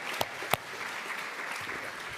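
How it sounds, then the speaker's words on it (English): Audience applause at a college convocation, a soft, steady wash of clapping from a seated crowd with a couple of sharper close claps near the start, fairly quiet throughout. "give a round of applause"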